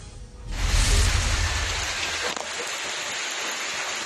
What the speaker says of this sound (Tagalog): Magdamag walang patid na ulan ang naranasan sa Northern Samar.